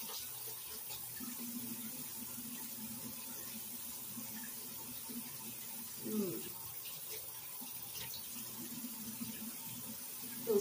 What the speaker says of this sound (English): I'm gonna go ahead and rinse my face off.